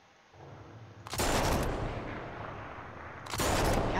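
Gunfire in the video game Sniper Elite 4 at a military camp: two sharp loud shots about two seconds apart, each followed by a long rumbling echo, with no talking.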